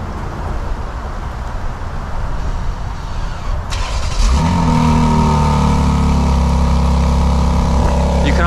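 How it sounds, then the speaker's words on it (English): A 2024 BMW X3 M Competition fires up by remote start through its quad-tip dual exhaust: a sharp engine catch and rev flare at about four seconds, then a loud, steady deep idle rumble under outdoor background noise. "the quad tip dual exhaust, which we can take a listen to because we have remote start"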